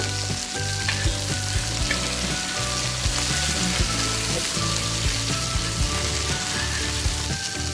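Sliced onions fry in hot oil for a Malabar tapioca biryani, a dense, continuous loud sizzle with faint scraping of a utensil underneath and no talk.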